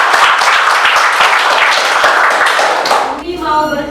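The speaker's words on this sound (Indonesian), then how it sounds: "ayo kita sama-sama tepuk tangan dulu." An elementary classroom of children clapping together in a dense, loud, steady patter of hands for about three seconds before it stops and a voice is heard.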